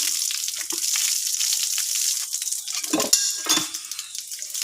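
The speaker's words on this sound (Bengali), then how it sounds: "এই দেখো কড়াইটা মেজে ফেলেছি।" A wok (kadai) being scrubbed with water at a sink, close and steady scouring and sloshing, with a couple of sharper metal scrapes and clanks near the end.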